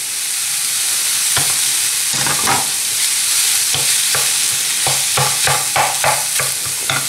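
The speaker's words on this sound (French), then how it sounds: "ma spatule en bois pour pouvoir réduire la viande hachée en petits morceaux et éviter d'avoir des paquets" Minced chicken with grated ginger fries in a pan under a loud, constant sizzle, while a wooden spatula scrapes and breaks up the meat in repeated sharp strokes that quicken toward the end.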